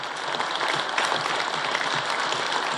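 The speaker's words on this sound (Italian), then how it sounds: "io gli voglio dedicare un grande applauso in questo momento" A crowd applauds steadily and densely for a tribute at an Italian commemorative event, the clapping sustained and fairly loud throughout with no voices above it.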